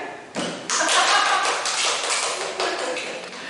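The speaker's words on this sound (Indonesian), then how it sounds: "Tepuk tangan nggak sih?" Students in a classroom clap their hands together in a burst of applause that rises sharply, stays fairly steady, then thins out toward the end.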